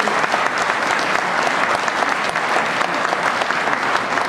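Dense, steady applause from a congress audience of Lions Club members in Honfleur, Normandy, filling the room evenly and loudly throughout with no voices on top.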